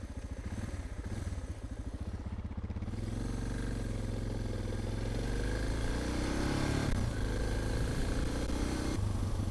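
Suzuki DR650 single-cylinder motorcycle engine running in a garage setting, a loud, close, continuous thumping idle that rises slightly in revs partway through, alone without speech.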